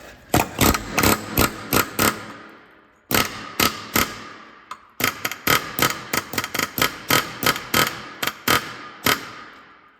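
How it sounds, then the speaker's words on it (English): An air hammer fitted with a chisel bit works to spread a steering knuckle on a 2011 Hyundai Santa Fe, firing in sharp, loud bursts of rapid hammering with brief pauses between them. "I have a chisel bit on an air hammer. And I'm going to jam that in there"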